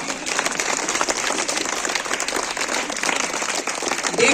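An audience claps steadily for students at a school prize event for position holders, a dense, sustained patter of applause with no pauses, fairly close and even in level throughout.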